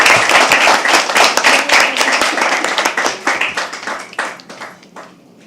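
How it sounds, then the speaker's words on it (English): A small crowd at a live poetry open mic gives a round of applause: close, crisp hand claps that start dense and thin out into scattered individual claps before fading. "So a big round of applause for yourself."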